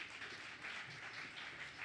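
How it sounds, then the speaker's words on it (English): Scattered audience applause at an Africa Month celebration event, faint and thin, a short patter of hands with no talk over it. "Let's give a round of applause for Professor Mantula."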